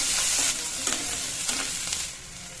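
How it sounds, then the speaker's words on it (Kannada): Onions frying in oil with cumin, mustard seeds and curry leaves, a loud steady sizzle broken by a few stirring scrapes, close up with no talking. "ಈಗ ಈರುಳ್ಳಿ ಫ್ರೈ ಆಗಿದೆ"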